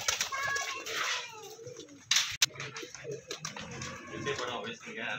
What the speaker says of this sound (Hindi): ये आपके सामने कुछ कबूतर आसमान में उड़ते हुए